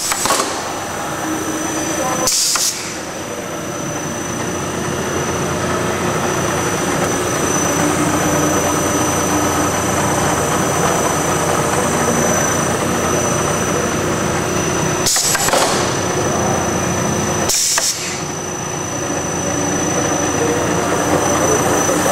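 A Cincinnati #20M centerless grinder with auto infeed, stock loader and parts ejector runs with a loud, continuous industrial roar and hum, broken by a few brief sharp knocks or cycle clunks.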